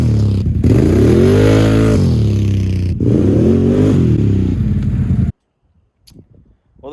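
A 2022 Can-Am Outlander 850 XMR ATV engine revs hard during a wheelie attempt in a muddy spot. The loud, close engine roar rises and falls twice, then cuts off abruptly, followed by faint clatter.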